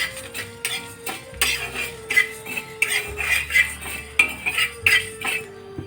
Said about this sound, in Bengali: দিয়ে দিচ্ছি এক চা চামচ জিরে দিয়ে দিচ্ছি এক চা চামচ ধনে আর একটা শুকনো লঙ্কা এগুলোকে ডাই রোস্ট করে নেবো